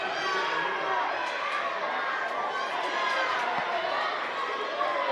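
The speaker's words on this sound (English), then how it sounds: "Crowd getting behind her." A home crowd roars and chatters steadily in a gym during a girls' wrestling match, a dense, continuous wall of cheering voices with a commentator talking over it.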